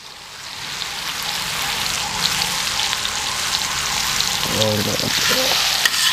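Potatoes tipped into a hot pan of tomato masala for street-style aloo matar chaat sizzle and fry steadily and loudly, with a brief clatter of stirring near the end and one short spoken word.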